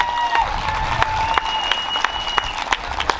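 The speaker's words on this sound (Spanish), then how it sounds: "Que se oiga un aplauso por eso" An audience at an outdoor seaside festival celebrating Oaxaca applauds, a brief wash of clapping with sharp individual claps standing out over a faint background crowd murmur.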